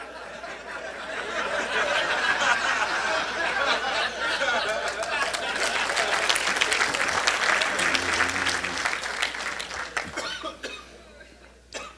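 Sustained audience applause at a lecture seminar, a dense steady clatter of many hands clapping for about ten seconds before tapering off, with a few coughs and light chatter mixed in.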